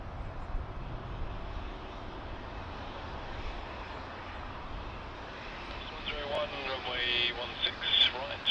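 A jet airliner takes off from runway 16 right at Sydney Airport, a steady broad engine roar filling the scene at moderate distance, with radio chatter from the control tower layered over the later part.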